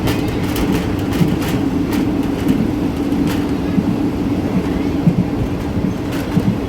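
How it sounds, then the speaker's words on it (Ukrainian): A train in Asia rolls along with metal panels rattling and vibrating, a continuous loud rumble close by with faint clicks of the wheels on the track, and no speech. "бляшанки, залізні фанери, які просто всю дорогу у тебе дрижать, і ну, звісно, створюють вібрацію оцей звук по металу"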